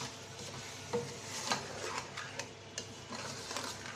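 White gourd with red sugar cooks in a pan while a spoon stirs it, giving a soft, quiet bubbling sizzle broken by a few faint scraping strokes, with no voices.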